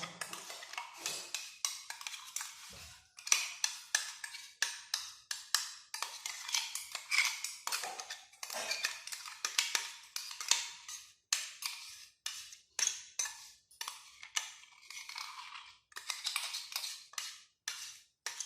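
Ground chili paste is scraped out of a mixer jar into a small pan, with repeated close clinks and taps of metal on metal in an irregular rhythm and no other sound around them.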